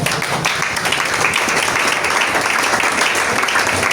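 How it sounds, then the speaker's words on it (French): A church congregation applauding together, a steady, dense wash of clapping that holds at an even level from start to finish, with no voices on top. "Acclamons pour elle."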